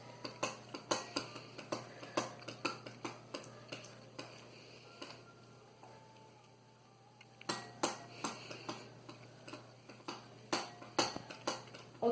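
A spoon clinks and scrapes against a bowl while stirring bubble slime, a steady run of light ticking knocks close by, pausing briefly in the middle before resuming.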